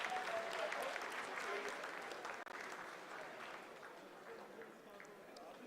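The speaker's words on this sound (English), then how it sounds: "Lot of applause" Applause breaks out in the mission control room during the Chandrayaan-3 lunar landing, a sustained burst of clapping from a crowd, fairly faint and slowly tapering, with voices murmuring underneath.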